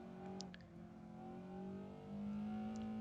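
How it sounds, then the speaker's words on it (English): Racing car in Assetto Corsa under feathered throttle, a steady moderate engine drone that dips briefly and then rises in pitch and loudness, heard alone with no talk. "Kind of feathering the throttle there"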